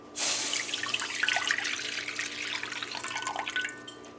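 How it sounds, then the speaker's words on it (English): A cup of water poured into a karahi while making syrup for ladoo, a close, steady splashing stream that starts abruptly and runs for several seconds. "we're gonna add 1 cup of water to our karahi here again"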